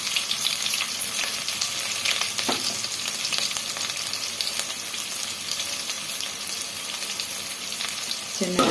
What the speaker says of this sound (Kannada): ಚೆನ್ನಾಗಿ ಥರ ಮಿಕ್ಸ್ ಮಾಡಿಕೊಂಡು ಫ್ರೈ ಮಾಡ್ಕೊಳ್ಳೋಣ.